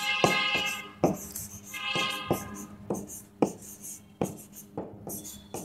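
A pen scratches across paper in short strokes as letters and labels for a trapezium diagram are written, close and clear, with brief pauses between each burst of writing.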